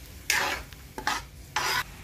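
Garlic, onion and patatim sauce stirred in a pan, with three separate bursts of scraping and sizzling over a quiet background, each lasting a fraction of a second.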